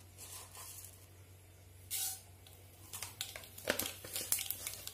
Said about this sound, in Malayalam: നമ്മുടെ എണ്ണ ചൂടായി വരുമ്പോൾ അതിലേക്ക് കുറച്ച് കടുക് ഇട്ട് കൊടുക്കാം.